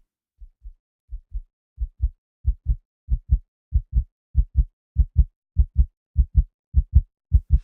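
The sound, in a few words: player's heartbeat sound effect from a video game, Wwise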